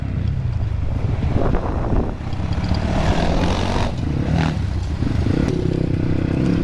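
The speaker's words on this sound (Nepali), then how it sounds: "म त एक गियरमा हिँडिरहेको छु के गर्नु बिग्रियो बाइक" A faulty motorcycle stuck in one gear rides along with its engine droning, heavy wind buffeting the microphone and occasional rattles.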